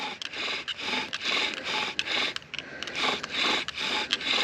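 A wooden friction fire drill spun back and forth with a bootlace and knife rasps in steady repeated strokes, close and fairly loud, each pass a scratchy grinding rub with no talking.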